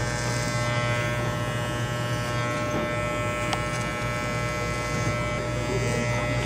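Electric hair clippers buzzing continuously up close while cutting a child's fade haircut, a steady loud hum with slight changes as the blade moves through hair.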